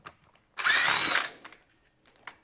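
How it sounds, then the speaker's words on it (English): A small impact driver whirs in one loud burst of about half a second while removing bolts on a 2000 Yamaha Warrior ATV, followed by faint clicks and metal handling sounds. "Now I'll grab my little impact again, and we'll take them all out."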